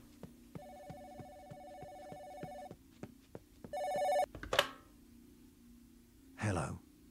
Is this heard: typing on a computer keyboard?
no